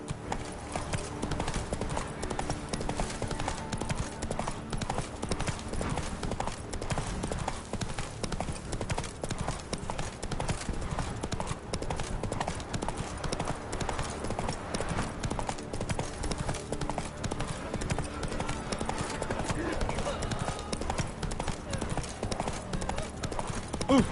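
Hooves of the horse Roach clip-clop steadily at a gallop in a video game, a continuous rhythmic pounding with an occasional whinny and faint game sounds beneath.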